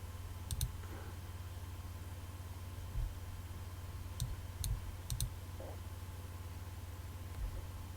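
A computer mouse clicks a few times, singly and in quick pairs, as crisp, faint taps over a steady electrical hum in a quiet room.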